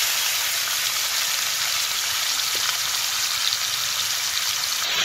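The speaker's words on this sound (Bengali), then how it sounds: "কড়াইয়ে তেলটা গরম হয়ে গেছে, এবার দিয়ে দেব এই চিকেনগুলোকে।" Chicken pieces fry in hot oil in a kadai, giving a constant, dense hiss of bubbling oil that holds steady and close throughout with no voices.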